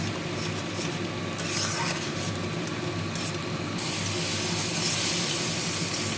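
Drumstick leaf paste with salt, turmeric and sugar sizzles in a pan, a steady close hiss that grows slightly louder toward the end, with no talk.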